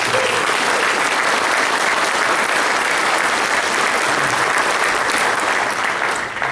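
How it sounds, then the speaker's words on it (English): A big round of applause fills a St. Louis charity dinner banquet room, dense and loud, a steady wash of many hands clapping without letup before tapering slightly at the end. "So a big round of applause."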